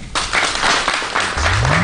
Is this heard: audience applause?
yes